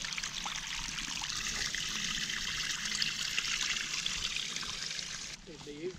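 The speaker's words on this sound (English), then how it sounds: "There's actually water flowing through here." Creek water trickles and flows steadily along a hiking trail at Wise Creek, a continuous broadband wash throughout, close and moderately loud, with faint talk briefly near the end.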